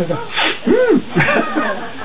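A single sharp sneeze bursts out amid a person's voice, short and close.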